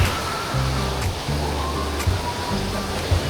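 Steady rushing water pours down river falls nearby, a dense continuous roar like a small waterfall with faint low thumps underneath.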